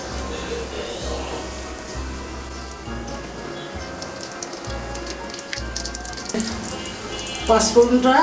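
Panch phoron spices sizzle and crackle steadily in hot oil while garlic and green chilli pickle is being made, with a pop now and then. A person speaks over the frying.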